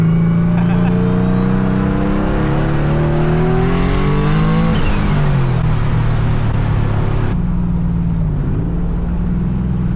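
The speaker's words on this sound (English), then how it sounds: "Just warm up my slicks real quick" An engine-swapped Nissan S15 revs hard and builds speed while warming up its slick tyres, a loud continuous engine roar rising in pitch with brief tyre noise, close to the car.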